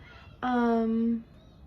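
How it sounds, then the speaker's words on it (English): A house cat meows at a door to be let inside, giving one drawn-out, steady meow lasting under a second, close and clear against a quiet room. "my cat wants inside my door and I see her paw, so I gotta go"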